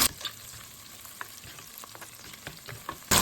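Garlic, green chillies and curry leaves sautéing in a pan, a continuous close sizzle broken by occasional sharp stirring clicks, with no voices.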